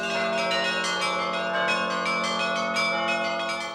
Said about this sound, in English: Today, the bells are ringing again.